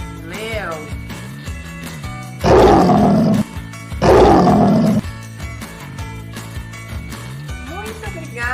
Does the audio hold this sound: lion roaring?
yes